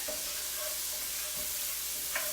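Garlic and bacon fry in a pan with a steady, dense sizzle throughout, close and fairly loud, with faint stirring clicks beneath it.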